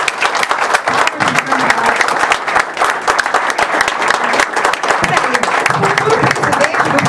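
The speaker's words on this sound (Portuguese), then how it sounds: "agora é a hora de bater palma para os candidatos" A debate audience applauds Flamengo presidential candidates, loud, dense and continuous clapping from a close crowd with scattered voices and cheers mixed in.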